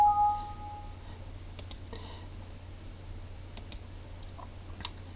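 A computer mouse in a quiet room, giving a few sparse, faint clicks spaced seconds apart over a low steady hum.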